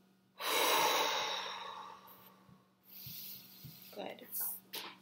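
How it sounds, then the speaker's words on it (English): A deep, drawn-out exhale during a shoulder and arm stretching exercise, loud and close at first, then fading into softer breaths and small rustles. "Exhale."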